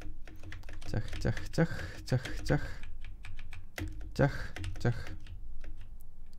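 Computer keyboard keys, the space bar among them, clicked in quick irregular bursts during a Minecraft parkour game on a new keyboard, close and fairly loud, with someone speaking briefly over the clicks.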